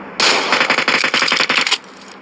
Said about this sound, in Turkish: adamın üstüne üstüne sıkıyorum